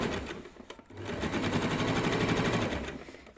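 A sewing machine stitching the waistband of summer shorts, running in a steady rapid whir after a brief start-stop, close and continuous.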